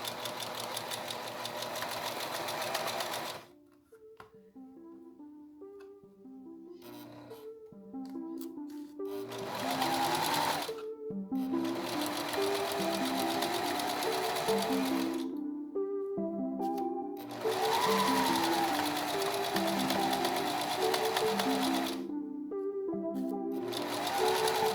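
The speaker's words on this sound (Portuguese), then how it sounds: "É só eu colocar aqui e ajeitar pra costurar." A sewing machine stitches doll fabric in repeated bursts, each run several seconds long, broken by brief pauses. The motor's steady whirring hum and needle rhythm are heard close up.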